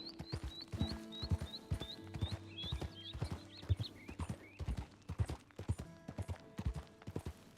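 A horse's hooves clip-clop at a steady walking pace in Red Dead Redemption 2, close and distinct, with bird chirps in the background and no talk.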